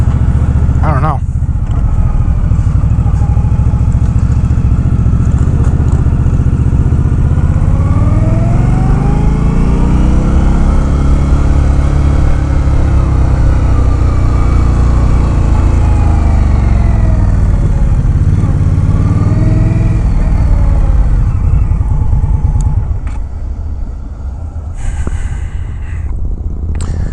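A 2019 Indian Scout Bobber, a 1133 cc V-twin cruiser, rumbles loudly and continuously while being ridden. Its engine pitch rises and falls through gear changes and throttle sweeps, with a rider's voice talking over it.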